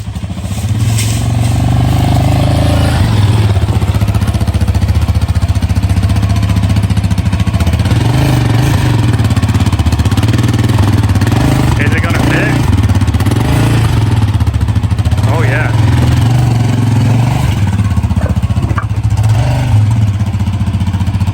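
A Raptor ATV engine runs loudly and close in a garage-built setup with a bunk bed for ATVs. A continuous rough motor drone keeps rising in revving surges throughout, with no clear speech.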